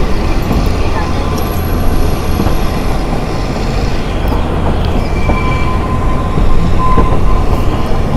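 A train rumbling steadily across a bridge on the mountain railway to Shimla, with continuous wheel and carriage noise, faint squeals and a low roar throughout, with talk in the background.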